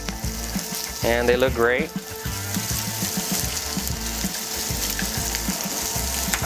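Lamb chops sizzle steadily in a hot pan as they are turned, a continuous frying hiss with a few low knocks, while a person briefly speaks over it.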